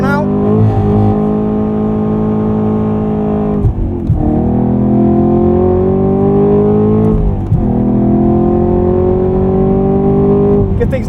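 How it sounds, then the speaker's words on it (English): A Chevrolet Camaro SS 1LE does a burnout on a track with traction control off and sport suspension: its V8 engine drones loud and close, holding high revs with brief dips between sustained roaring pulls. "We'll start with the burnout."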